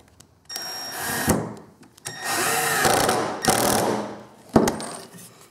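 A power drill works on a mold for casting bismuth shotgun slugs at a gunsmithing bench, in three bursts of whining drilling separated by short pauses and clatter, ending with a sharp metallic clank.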